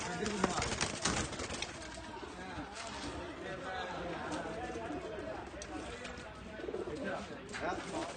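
Pigeons coo repeatedly in a crop field sown with leafy greens, their soft calls mixed with wing flaps and rustling outdoors while people talk over them throughout.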